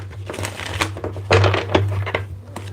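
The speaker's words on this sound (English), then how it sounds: "Give me 2 more shuffles here." Small tarot cards being shuffled by hand make a run of brisk riffling and flicking bursts, close and fairly loud, with short pauses between shuffles over a low steady hum.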